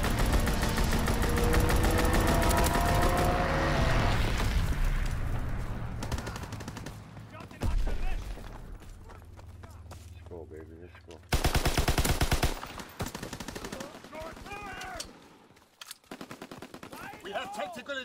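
Loud, dense rapid gunfire from a fighter aircraft's strafing run in Call of Duty, sustained bursts at first, then thinning out with a low engine drone before further sharp bursts.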